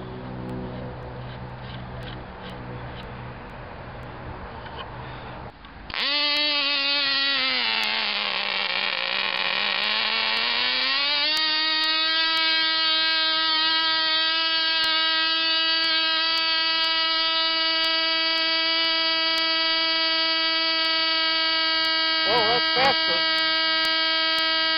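A Cox 1/2A model glow engine fitted with a Merlin glow plug on a Cox adapter clamp starts up and runs loud and steady at a high-pitched buzzing whine, dipping briefly in speed before settling and holding constant.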